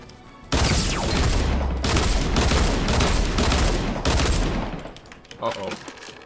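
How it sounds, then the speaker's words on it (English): Sustained automatic gunfire in Fortnite blasts loud and close in long continuous bursts with brief breaks, ending in scattered shots and clatter. "I'm going off with this gun right now!"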